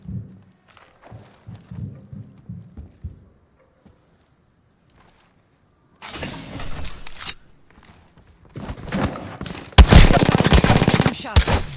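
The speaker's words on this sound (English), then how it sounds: "Two shots. Opening fire." Gunfire in the video game Apex Legends: quiet footsteps and movement at first, then bursts of rapid automatic fire and loud shots in the second half.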